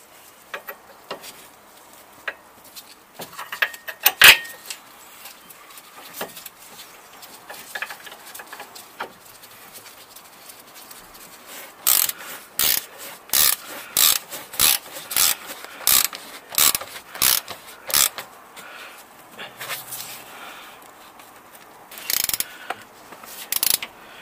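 A ratchet clicks in quick repeated bursts while tightening the front brake caliper bolts on a Citroën C3 1.4 during a disc and pad change; metallic handling noises come first, then a steady run of loud ratchet strokes, with no speech.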